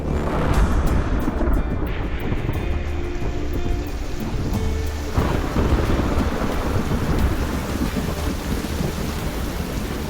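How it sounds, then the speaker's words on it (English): Heavy monsoon rain pours steadily across the Indonesian islands while deep thunder rumbles beneath it, forming a dense, unbroken wash of storm noise. "The monsoon rains signal an end to the dry season."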